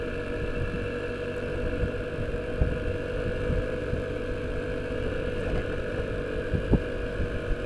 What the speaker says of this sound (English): this is the ride on the Vespa